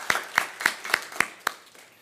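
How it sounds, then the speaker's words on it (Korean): Six slow, evenly spaced hand claps ring out in a church youth worship service, each sharp and close, the rhythm fading after the last one. "우리 청년들을 위해서 수고한다고 박수 한번"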